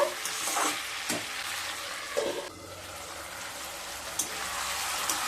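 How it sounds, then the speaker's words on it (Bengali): Potatoes and Malabar spinach stalks with spices frying and being stirred in a pan for a wedding-style chhyachra, a steady sizzle broken by a few scraping stirs, close and moderately loud with no voices. "আলু আর পুঁই ডাঁটাকে মশলার সাথে খুব ভালোভাবে মিশিয়ে"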